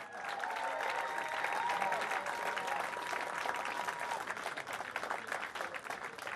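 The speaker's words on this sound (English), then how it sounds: "How about another round of applause for our 2 finalists?" A state boys' basketball finals crowd in Nebraska gives a steady, sustained round of applause for the two finalist teams, broad and evenly loud throughout, with faint voices underneath.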